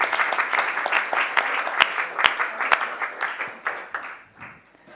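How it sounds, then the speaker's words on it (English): A conference audience at a climate neutrality report session gives a brief round of applause, dense clapping that thins out toward the end with a few last claps. "Just a quick round of applause before Matthias closes"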